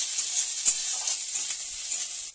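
Chopped onions sizzle in hot oil in a kadai, making a continuous close crackle broken by a few soft stirring scrapes, with no talking, before the sound cuts off abruptly at the end.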